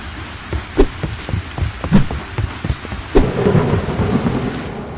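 Rain patters steadily on a surface while low thunder rumbles roll in several times, growing heavier toward the end.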